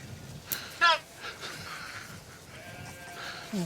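Goats from a newly acquired herd bleat inside a fenced farm pen, with one short, sharp call standing out amid quieter animal sounds and background talk.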